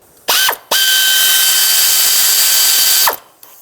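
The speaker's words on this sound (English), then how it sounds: "With a 10mm, remove this bolt here that holds it down." A 10mm ratchet turns out the ignition coil hold-down bolt on a 2006-2011 Chevy HHR, loud and close: a short burst, a pause, then one steady run of about two and a half seconds.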